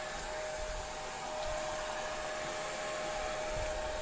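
Hair dryer blowing on papers that flutter as they dry: a loud, constant whirring roar with a steady high tone, running unbroken throughout, with no voice.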